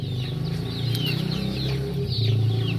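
Backyard gamefowl chickens cluck softly and steadily at close range, with brief higher chirps from chicks mixed in over a constant low farmyard hum.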